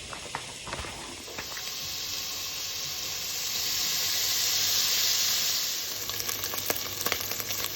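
Bacon and chorizo fry in a pan, a continuous bright sizzle and hiss that swells in the middle, with light clicks and scrapes of stirring near the start and end.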